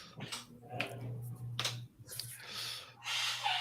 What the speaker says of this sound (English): We'll wait for 5 seconds for a nose blow.